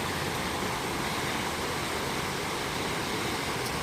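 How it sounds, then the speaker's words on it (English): Tumwater Falls pours with a steady, dense roar of rushing water, continuous and even throughout with no voices. "Oh, here's a nice old waterfall."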